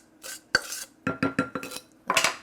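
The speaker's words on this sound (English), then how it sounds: "And now we'll combine with a wooden spoon." A wooden spoon stirring flour into vegan, gluten-free chocolate chip cookie dough in a bowl, giving a series of short scraping and knocking strokes against the bowl, close and fairly quiet, with no talking.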